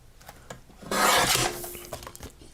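Close, loud rasping as craft material is trimmed off along the bottom, one sustained scraping stroke lasting about half a second, framed by lighter scratchy handling sounds.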